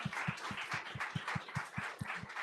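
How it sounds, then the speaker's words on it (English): A small audience at a Ruby meetup held at Figma in San Francisco claps for a speaker. The short, fairly quiet applause has a brisk, even rhythm of separate claps. "let's give another round of applause to Jeremy"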